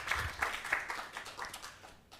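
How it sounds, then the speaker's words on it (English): Applause from a summit audience, a close burst of scattered hand claps that swells then thins out over a couple of seconds, with faint voices mixed in. "a round of applause again."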